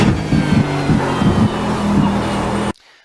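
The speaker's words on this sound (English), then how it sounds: "one more downshift into second for this tight right-hander" Race car engine on a road circuit, downshifting into second gear for a tight right-hander: a loud, close engine drone with brief pulsing blips of revs, cutting off abruptly near the end.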